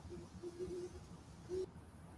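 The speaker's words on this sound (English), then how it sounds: "Now this great horned owl is for sure real." Great horned owl hooting, picked up by a Haikubox recorder: a few soft, low, deep hoots in a short rhythmic series, then a longer single hoot, faint and distant over background hiss.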